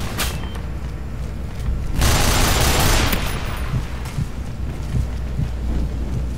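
Chain gun fire in the video game Nuclear Dawn: a loud, sustained roar of rapid shots that swells in the middle and then breaks into separate heavy bursts over a rumbling battlefield background.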